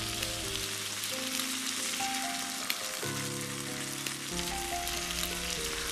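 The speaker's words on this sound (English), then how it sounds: "Saute the vegetable until it gets caramelized. Add some paprika powder and tomato," Vegetables sautéing with paprika powder and tomato in a pan: a constant soft sizzle and crackle running under steady background music tones, with no speech.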